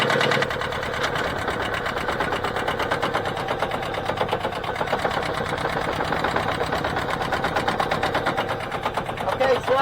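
A boat engine idles steadily and is shifted into forward gear, a continuous rattling, knocking drone running throughout at fairly close range, with faint voices in the background.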